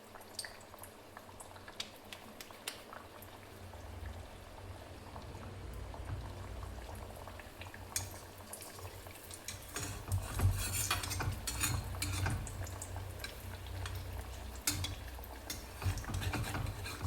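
Puris sizzling in hot oil in a kitchen, a steady bubbling fry hiss that grows busier midway, with occasional clinks of a utensil against the pan and no talking.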